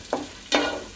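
Shallots and black pepper hit hot oil in a pan for a Tamil fish curry, two quick bursts of sizzling close by, the second louder and trailing off.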